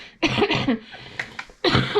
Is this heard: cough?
yes